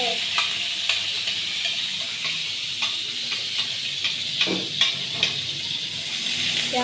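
Chopped onion fries in oil in a pan, giving a steady close sizzle with small crackles and pops throughout.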